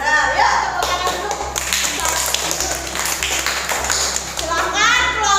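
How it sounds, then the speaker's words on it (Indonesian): A class of children in an Indonesian school lesson claps hands together in a loud, continuous patter, mixed with lively children's voices throughout. "Yuk tepuk tangan dulu."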